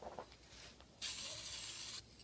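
Apple cider vinegar sprayed from a spray bottle onto rusty metal parts stood upright: a faint rub first, then a single steady hissing spray burst lasting about a second, close and fairly quiet.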